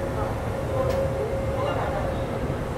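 At Lucknow station, a WB7 locomotive from Howrah shed hauling the Howrah Bikaner Express gives off a steady low rumble and hum, with a faint higher tone, under a busy platform background.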